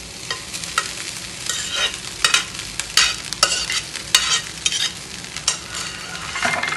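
Boiled rice is stirred into sautéed raw mango in a pan, with frequent scraping spoon strokes over a light frying sizzle, close and without voices.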